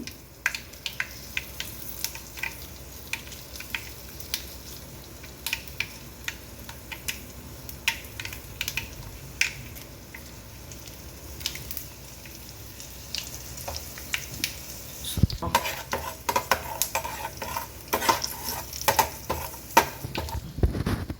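Faint crackling and popping of spices sizzling in hot oil for tempering, with grated coconut added, for a raw gooseberry relish; scattered small snaps that grow busier toward the end.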